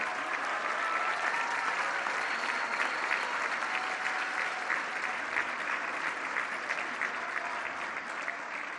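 Sustained applause from a crowd at a regional ISSSTE hospital inauguration in Torreón, dense clapping that stays steady and loud throughout.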